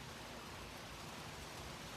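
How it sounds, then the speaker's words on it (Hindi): Steady, dense rain pours down as a continuous hiss of falling water, even and unbroken throughout with no voices. "अब बताओ, अगर मैं बारिश में भीगते भीगते भी अपने घर जाऊंगी तो मेरे ये सारे कपड़े गीले हो जाएंगे"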